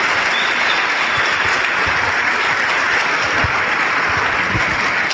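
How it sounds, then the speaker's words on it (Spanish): Steady, even applause from an audience at a business talk, a dense wash of many hands clapping continuously and fairly close, with no talking over it. "Dale un aplauso porque eso es impresionante."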